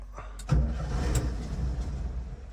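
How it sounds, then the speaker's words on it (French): A cold engine on a 1971 Volkswagen Combi T2a Westfalia cranks and catches with no throttle, settling into a low, uneven, close-up rumble that runs steadily to the end. "j'ai pas le pied sur l'accélérateur, moteur froid"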